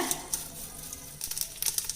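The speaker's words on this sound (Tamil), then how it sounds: "கடுகு பொரியும் போதே கொஞ்சம் வெந்தயம் சேர்த்துக்கலாம்" Sharp crackling and popping of mustard seeds in hot groundnut oil, a busy irregular sizzle with bright spits, close and fairly loud.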